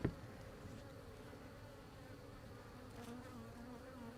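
Honeybees buzzing around an open hive frame during queen rearing with the notch method, a steady close drone with individual bees passing near, no talking.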